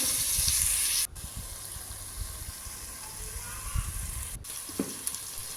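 Chicken pieces sizzle steadily in a hot pot, with occasional scraping and stirring noises over the continuous frying hiss.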